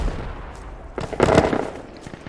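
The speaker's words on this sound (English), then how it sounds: "Don't run into the explosions, guys." Gunfire and explosions from the combat video game Project Reality rumble and crack in a dense, loud burst that peaks midway, with no voices.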